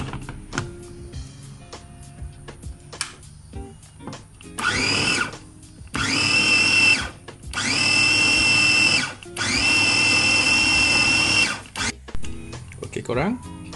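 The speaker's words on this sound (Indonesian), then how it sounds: "terusnya pula kita kisar sehingga dia hancur lah." A kitchen blender grinds cut tofu, egg tofu and raw egg in loud, sustained bursts of whirring, stopping and restarting several times, with brief pauses and clatter between runs.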